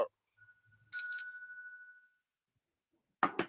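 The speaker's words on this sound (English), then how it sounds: "you better shake that bell like you at the stock market" A bell shaken by hand rings out in a clear, bright burst that slowly decays, after a soft earlier tap, with a brief rattling shake near the end and no talk.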